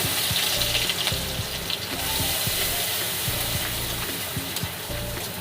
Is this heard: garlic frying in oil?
yes